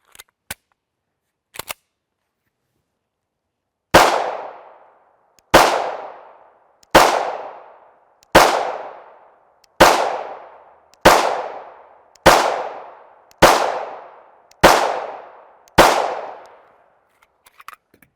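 A 5.7x28mm handgun fires Fiocchi 40gr FMJ rounds: two faint clicks, then about ten loud, sharp shots at a steady, unhurried pace, each cracking close by and ringing off briefly with no talking.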